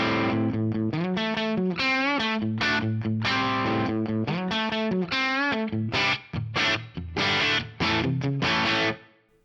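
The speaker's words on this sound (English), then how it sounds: "Crunchy little JTM 45 style thing right there." A 2002 Les Paul Standard played through a crunchy JTM45-style amp model with a medium room reverb rings out in chopped chords and sustained notes, loud and steady, with a brief gap before a final strum.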